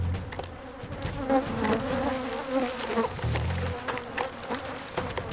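Agitated bees swarm and buzz around a heavy hive being carried to a new site on a hot day; a dense, steady, close drone persists throughout with no talking.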